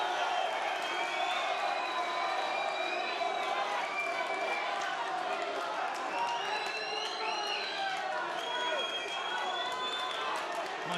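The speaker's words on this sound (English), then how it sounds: "Crowd are trying to raise Jack Catterall, the local favourite" Boxing crowd roaring and whistling for local favourite Jack Catterall of Chorley, a dense continuous wall of cheers and shouts across the hall with commentators talking over it.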